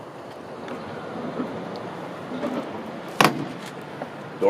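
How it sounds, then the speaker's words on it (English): The door of a restored 1935 Ford 3 window coupe shuts with a single sharp, solid latch click in the middle, heard against steady outdoor wind and ambient noise. "Door closes nice."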